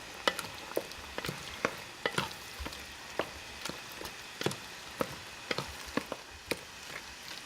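Cheesy Cajun shrimp pasta stirred in a pan, giving a steady run of sharp scraping clicks roughly every half second over a soft background hiss.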